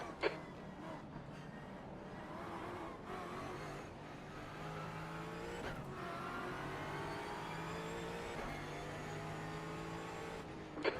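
Race car engines in a sim racing game accelerating off the green flag, a steady sustained engine drone with rising harmonic tones throughout, fairly loud and continuous.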